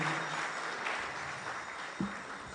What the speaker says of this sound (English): So let's have another round of applause for Swarup Damodar Prabhu.